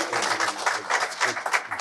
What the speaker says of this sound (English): I like to give him big round of applause